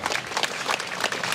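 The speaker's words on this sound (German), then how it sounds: "Auch hier wieder einen großen Applaus." Steady, dense applause from an outdoor crowd at a street demonstration for peace and social justice, sustained clapping with no voices on top.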